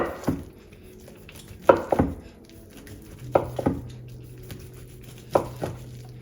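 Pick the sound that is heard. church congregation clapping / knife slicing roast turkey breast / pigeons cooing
knife slicing roast turkey breast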